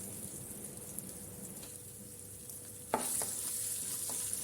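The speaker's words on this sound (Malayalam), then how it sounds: "ഇഞ്ചിയിട്ട് ഒന്ന് വഴറ്റിയ ശേഷം സവാളയും പച്ചമുളകും ചേർക്കാം" Ginger sautéing in a pan for mutton stew, with a steady close sizzle and frying hiss throughout, a few sharper stirring clatters and a slight rise in the sizzle partway through; no talking.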